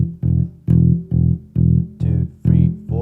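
Funk electric bass plays steady eighth notes, seven punchy low plucked notes in an even rhythm with slight pitch slides toward the end, heard alone and up close.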